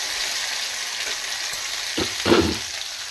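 Cashews and asafoetida fry in oil in a kadai, giving a soft, steady sizzle with a few louder stirring scrapes near the end, close and without talk.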